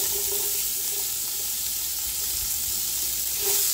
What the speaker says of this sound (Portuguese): agora eu jogo a cebola.